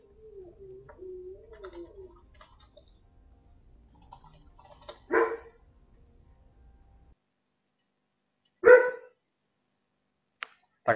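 A dog barks a few times, loud and fairly close, in short separate bursts between quiet gaps, after a stretch of faint birdlike chirping.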